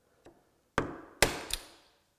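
A wooden tenon is split with a chisel: a faint tap, then two sharp, loud strikes and a smaller follow-up hit, each ringing out briefly in a quiet room.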